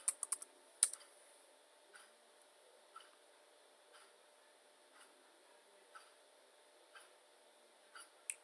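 Password typed on a computer keyboard in a Linux terminal: a quick burst of several key clicks at the start, then single faint taps about once a second, in a quiet room.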